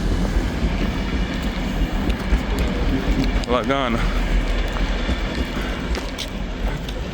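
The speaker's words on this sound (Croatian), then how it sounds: "vlak je prošao" A train rumbles past amid steady outdoor noise, with a brief squealing wheel sound in the middle and a voice speaking nearby.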